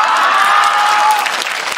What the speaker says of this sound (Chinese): 从刚刚他唱完的那个掌声呢